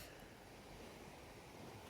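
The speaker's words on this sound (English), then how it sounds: "back to the sound of the waves." Ocean waves washing in as a continuous soft roar of surf with some wind hiss, steady and even throughout with no voices.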